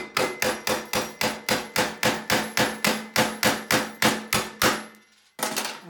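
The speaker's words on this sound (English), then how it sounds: "you just have to bang it with the hammer" A steel hammer bangs out a press-fit bolt on a barbell footplate, with about eighteen loud, evenly paced metallic blows, a short pause, then one more strike.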